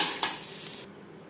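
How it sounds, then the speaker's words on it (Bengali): Chopped onions hit hot oil in a kadai just used for frying potatoes, a loud, crisp sizzle with a small spatter that cuts off abruptly after under a second, leaving quiet. "আলু ভেজে নেওয়া কড়াইতে আবারও তেল দিয়েছি দিয়ে দিলাম পেঁয়াজ"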